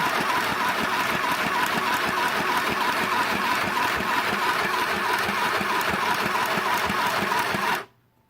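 A small, loud sewing machine running nonstop in a fast mechanical buzz for about eight seconds, then cutting out abruptly.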